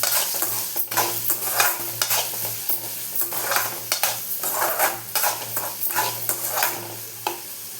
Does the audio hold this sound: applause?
no